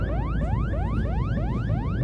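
An alarm aboard a spaceship in a radio-style drama: repeated rising electronic sweeps, each glide climbing quickly and restarting about every third of a second, loud and continuous over a low rumbling engine bed.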